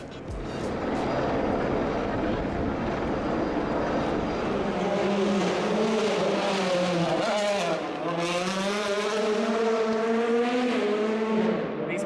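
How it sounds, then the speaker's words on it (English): Loud rally cars roar by one after another on city streets at Rally de Portugal 2018, their pitch sweeping down as they pass close, with crowd noise and voices beneath. "These cars are going a lot faster than the ones we were watching for the past 2 hours"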